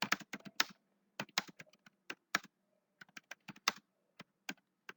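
Keys on a computer keyboard are typed in Microsoft Word in quick bursts of crisp clicks with short pauses between, close and fairly loud, with no voices.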